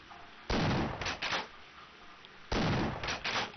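Two loud bursts of gunfire in the Half-Life video game, each a sharp blast followed by a rapid volley of shots, separated by a short lull.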